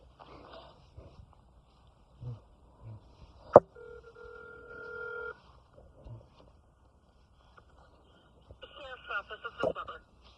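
A phone line clicks and sends a steady two-tone ringback in a quiet room, with faint voices and soft bumps around it and brief tones near the end.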